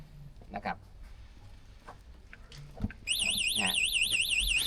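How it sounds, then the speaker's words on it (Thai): After some faint rustling and a short voice, a 2025 EV G7 electric tricycle's anti-theft alarm, a loud warbling electronic siren, starts up close, sweeping up and down repeatedly until the end. "มันก็จะร้องนะฮะกันขโมยก็จะทำงาน"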